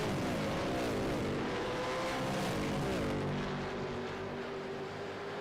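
Supercars race cars at Road America in a racing simulator, engines howling with rising and falling pitch as they shift and pass, loud and continuous with no talk.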